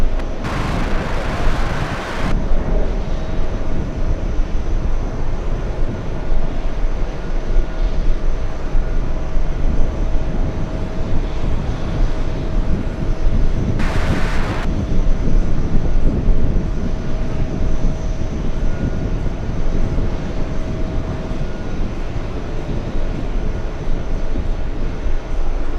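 A Lufthansa airliner on its takeoff roll, a loud sustained jet engine roar that holds steady throughout, heard from a distance with constant broadband rumble.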